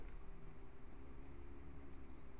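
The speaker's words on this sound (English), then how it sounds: "It beeped twice." A PS3 console gives two short, faint, high beeps in quick succession near the end, over a low background hum in a quiet room during Rebug firmware setup.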